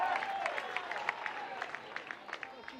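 Softball crowd at a Florida versus Mercer women's game, applauding and cheering in a steady wash of clapping with scattered sharper claps rising and falling, moderately loud and continuous.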